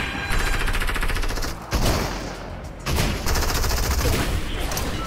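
Fortnite gunfire rattles in rapid bursts of automatic shots, loud and close, broken by short pauses, with faint voices in the background.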